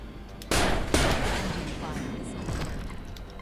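Flak bursts striking an aircraft in the combat flight game Nuclear Option: two heavy close impacts in quick succession, followed by a sustained rumbling roar of engine and explosions.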